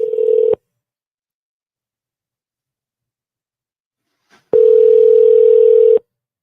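A telephone call gives a short steady electronic tone, then after a few seconds of silence a longer sustained ringing tone of about a second and a half, clean and loud with no speech.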